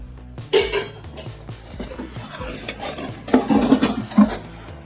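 A silver-plate vegetable dish handled among flatware, giving scattered metallic clinks, scrapes and rattles, with a busier cluster of clattering near the end and no voices.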